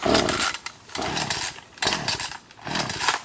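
A chainsaw cutting mid-story trees in woodland revs in repeated loud surges, its engine roaring in about four bursts with short dips between.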